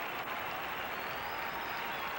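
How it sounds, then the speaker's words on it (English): Stadium crowd at a 5000 meter track race, a steady broadband roar of cheering and applause rising around the runners, continuous and fairly distant for the whole stretch. "And the crowd now has caught on and are responding."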